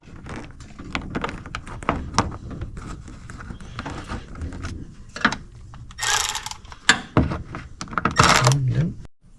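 Radiator mounting bolts are snugged down on a 1969 Hurst Olds, with bursts of close ratchet clicking and metallic clatter between short pauses, and no talking.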